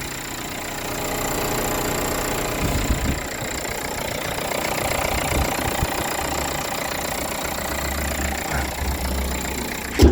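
A 2015 Renault Kangoo with a 1.5 dCi diesel engine idles steadily up close, a continuous rumbling drone with a slight knock that runs unbroken for about ten seconds, with no talking.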